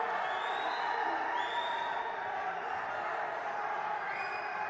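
Iranian and Kyrgyz spectators at a 67 kg wrestling final fill the arena with a steady, dense wash of shouting and cheering, sustained and fairly loud throughout with no single voice standing out.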